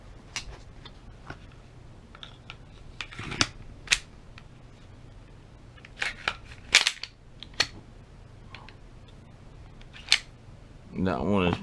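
Smith & Wesson M&P 2.0 compact 9mm pistol being put back together: scattered sharp metallic clicks and snaps of parts sliding and locking into place, close but fairly quiet, with a short rustle near the end.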